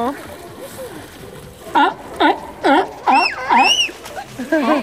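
Sea lions bark and call in a rapid series of loud, rising and falling honks close by, with splashing in the water and people talking nearby.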